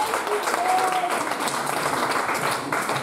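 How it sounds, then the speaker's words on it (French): Church congregation applauding during a French-language sermon, a dense steady clapping from many hands filling the whole moment, with faint voices mixed in. "Acclame le Seigneur Jésus-Christ."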